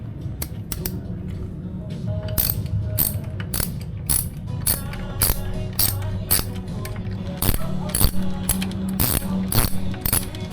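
A ratchet fitted with an 8mm socket works loose the crankcase screws on a Burgman EX scooter's CVT cover, giving close, repeated sharp clicking strokes in uneven bursts with a faint background hum.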